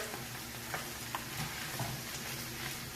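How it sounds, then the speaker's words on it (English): Leeks frying in a pan, a faint steady sizzle with a few soft stirring clicks and taps, continuous and close. "Fry it for, I don't know, half a minute or whatever"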